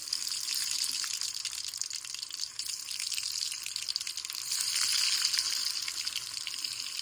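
Potato strips deep frying in hot oil on a stove for French fries, a steady close hiss and crackle of bubbling oil that swells slightly midway, with no talking.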